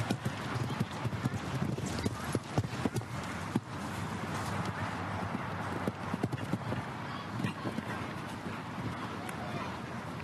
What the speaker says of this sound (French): Un cheval très puissant, très grand.